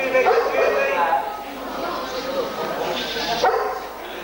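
A small woolly sheep bleats close by at a farm, with wavering, repeated calls over a few seconds. Voices mix in the background.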